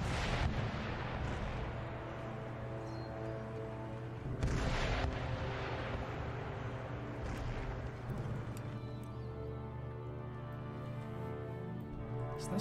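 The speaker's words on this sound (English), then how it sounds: "So my artillery is all going to open up onto their demi cannons." Artillery fire in Empire Total War, with cannon batteries opening up on demi cannons: repeated heavy booms and bursts over a continuous rumbling battle din, a loud salvo near the start and another around five seconds.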